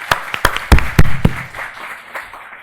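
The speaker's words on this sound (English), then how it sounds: "let me thank everyone on the panel with a big round of applause" Brief applause for a seminar panel, a handful of sharp, separate claps close by that thin out and fade within a couple of seconds.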